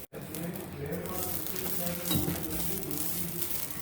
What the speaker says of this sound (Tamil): இப்போ அந்த தேங்காயை இளம் வறுப்பாக வறுக்கேன்